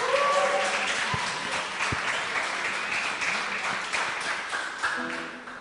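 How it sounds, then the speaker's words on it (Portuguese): A studio audience on a Brazilian variety programme gives a round of applause, a dense steady clapping that holds throughout and eases slightly near the end. "Salve de palmas."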